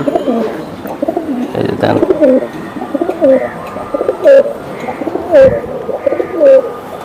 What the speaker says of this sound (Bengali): আমাদের সিলভার কবুতর সিলভার কবুতর